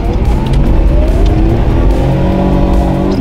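Second-generation Toyota Supra pulling out and accelerating, its engine revving loudly up through rising pitch close by, with a brief tyre squeal.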